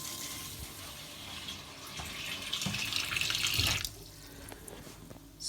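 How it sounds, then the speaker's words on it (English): A kitchen faucet runs into the sink, a steady close hiss of flowing water that swells briefly before the stream cuts off near the end, leaving quieter dripping. "So I will show you water flow."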